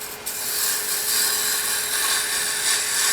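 A wooden Christmas ornament is cut on a spinning wood lathe, the tool held against the tool rest and producing a steady, close, rasping hiss with a faint constant hum underneath.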